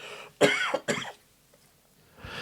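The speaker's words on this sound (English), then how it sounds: "I had a little bit of a coughing fit" Two harsh, loud coughs in quick succession close to the mic, then a pause and the start of another, during a coughing fit on a butter menthol.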